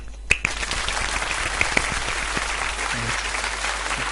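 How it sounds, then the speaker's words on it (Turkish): Applause fills the room for a few seconds, a dense steady patter of many hands clapping with a couple of sharper claps near the start, loud and close, with no talking over it. "Alkış."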